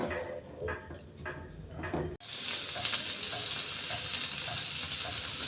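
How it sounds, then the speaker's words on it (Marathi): Fish fries in a pan in a home kitchen, a loud steady sizzle and crackle that jumps in abruptly after a few quieter clinks and handling sounds. "फिश फ्राय कोता"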